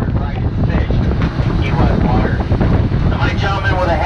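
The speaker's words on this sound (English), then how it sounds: "It gets pretty gusty." Gusty wind buffets the microphone aboard the open Conch Train tour in Key West, a loud, rumbling roar that swells and eases in waves over four seconds, with a faint voice mixed in.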